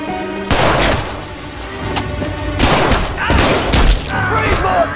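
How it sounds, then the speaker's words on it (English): Gunfire in an action film scene during a police standoff, a loud dense burst of shots with heavy booms and thuds that continues throughout, mixed with shouting and dramatic sound effects. "Shots fired."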